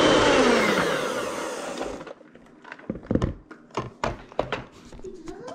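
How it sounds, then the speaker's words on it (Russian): An electric mixer whips eggs and sugar for a Joconde sponge, whirring loudly for about two seconds, then stopping, followed by scattered knocks and taps against the bowl. "Сахар и яйца взбиваем около 3 минут до посветления массы."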